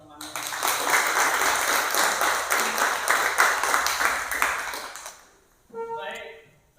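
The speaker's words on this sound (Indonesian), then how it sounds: "silakan berikan dulu tepuk tangan buat teman-teman" A classroom group gives a sustained round of clapping for classmates during a teacher-training lesson, dense and steady for about five seconds before fading out, after which a voice starts talking.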